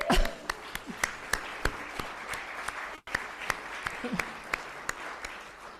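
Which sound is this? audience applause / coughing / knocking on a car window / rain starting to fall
audience applause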